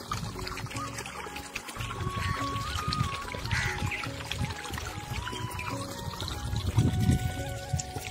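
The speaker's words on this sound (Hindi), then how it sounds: "तो ये पानी यहाँ से जा रहा है" Borewell water pours and gurgles along an irrigation channel on a village farm, a close, continuous splashing trickle with shifting low churning and faint background sounds.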